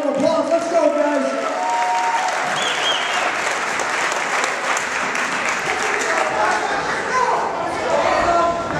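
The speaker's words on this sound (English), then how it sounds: "Let's bring them out with a round of applause." Boxing crowd applauds as middleweight semi-final fighters enter for the third round, a dense sustained roar of clapping and cheering with a few shouts and thuds throughout.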